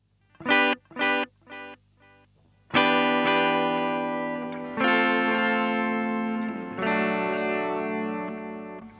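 Guitar chords ring out through a Danelectro Dan Echo delay pedal, several short stabs followed by sustained notes, each trailed by repeating echoes.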